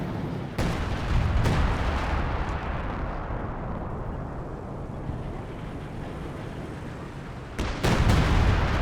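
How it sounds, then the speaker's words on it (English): Base artillery in Company of Heroes 2 booms loudly, sharp shell blasts at the start and end framing a long, rumbling barrage of heavy, close impacts. "And more base artillery there"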